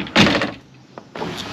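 Rivian R1T pickup tailgate swung shut with a loud close thunk, then a brief quieter knock and a short trailing rustle.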